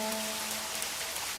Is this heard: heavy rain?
yes